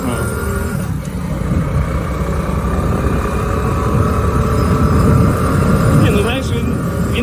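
A Spark SP110C-2C motorbike engine runs steadily, a low, loud mechanical hum with wind rush as it rides, while people talk over it.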